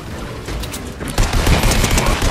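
Rapid gunfire from a low-recoil beam-like weapon in the video game Fortnite, a loud sustained burst that swells stronger halfway through with dense crackling shots.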